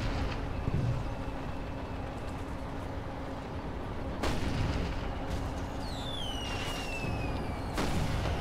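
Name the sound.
mortar fire in video game Toy Soldiers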